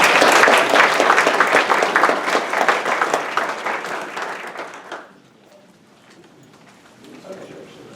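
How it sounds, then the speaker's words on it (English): Audience at a business conference breaking into a dense round of applause for a newly introduced CEO, loud and sustained for about five seconds before fading abruptly into a quiet room. "Please give him a round of applause."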